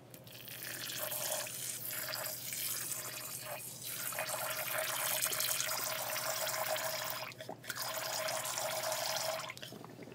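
Distilled water being poured into a container while making a citric acid solution for beauty products, a continuous trickling, splashing stream with slight variations, close and fairly soft, running alone without any talk.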